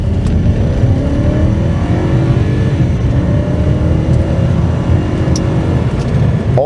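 A 1994 BMW 540i sedan accelerates hard, its V8 engine note rising steadily in a loud, continuous roar heard from inside the car.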